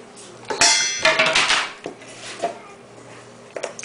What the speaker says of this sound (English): It's the first time he found the dog bowls.